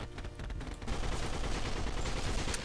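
Rapid automatic fire from an M4A1 rifle in the zombie-emoji survival shooter Kill the Emoji, a loud continuous rattle of shots running through the whole stretch with no pauses.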